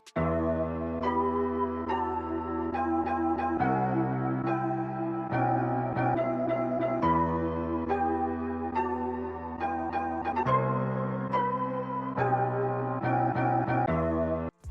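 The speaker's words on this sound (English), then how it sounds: "we've got a chopped up version of our loop that sounds like this" A looping music sample cut into short chopped segments, with abrupt edits and repeated stutters, playing loud and steady throughout with no voices.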